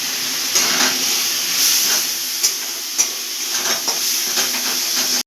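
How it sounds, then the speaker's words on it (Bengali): Masala with a little sugar fries in oil in a pan, giving a steady close hiss and sizzle broken by occasional sharp stirring ticks. "ভাজা ভাজা করে নেব।"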